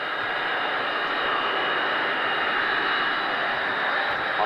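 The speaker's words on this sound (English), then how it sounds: "Now, out from the southwest, the first pass." A B-52G bomber makes its first pass, a steady, moderately loud jet rumble holding evenly throughout with a faint hiss on top.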